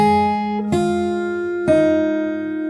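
Fingerstyle guitar plays a song slowly: three close, ringing plucked notes or chords, each struck and left to sustain, with no voice.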